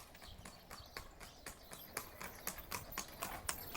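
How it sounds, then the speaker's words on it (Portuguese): Horse-drawn cart passing, with hooves clip-clopping in a brisk, regular rhythm of sharp knocks on a hard road surface, close and clear. "Aí eu vi um cavalo, né? Um charrete."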